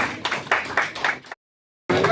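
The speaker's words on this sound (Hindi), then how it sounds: "एक जोरदार ताली होनी चाहिए।" A crowd at a stage play claps in a quick burst of applause, close and lively, breaking off into brief silence before resuming.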